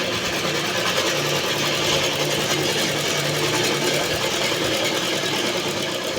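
A sewing machine runs steadily, stitching a quarter-inch seam on a blouse belt, with a constant close mechanical whir and rapid needle chatter throughout and no talk.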